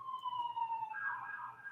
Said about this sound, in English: don't worry about the sirens;